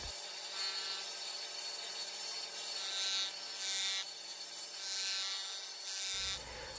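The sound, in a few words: sanding a wooden car model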